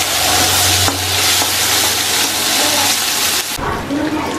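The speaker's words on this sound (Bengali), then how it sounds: "এইটাকে একটু ভালো করে ভেজে নেব।" Chopped onion and green chili fry in oil in a pan for a chole bhature dish, giving a loud, steady, close sizzle that runs unbroken and then briefly changes tone near the end, with no talking.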